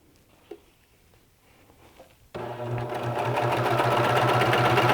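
A Babylock Victory serger stitches fabric, starting abruptly after quiet handling noises and running in a loud, steady, fast mechanical rhythm that continues to the end.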